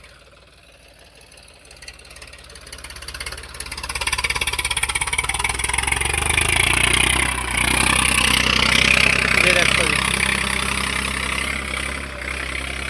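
A New Holland 3032 tractor engine runs at idle nearby, a steady low rumble with a faint knocking texture that grows louder after the first few seconds and holds, while someone speaks briefly at the start.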